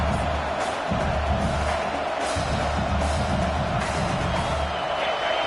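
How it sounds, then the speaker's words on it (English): A stadium crowd at an Alabama college football game roars continuously, a dense wash of cheering and whoops with rising swells, loud and constant from start to finish. "This crowd bringing the energy and noise early"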